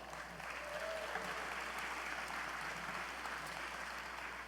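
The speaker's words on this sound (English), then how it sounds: "Give yourselves a round of applause." Sustained applause rises from a crowd at an American Legion gathering, a dense, even patter of clapping held at a steady, moderately distant level throughout.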